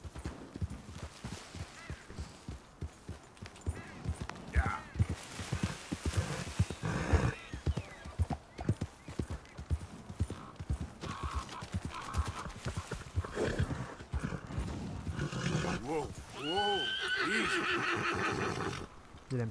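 A horse in the Western game Red Dead Redemption 2 whinnies and neighs repeatedly while its hooves clip-clop, with game sound effects and someone talking over them.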